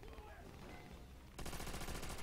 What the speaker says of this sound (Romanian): Trag ăștia, a, de acolo.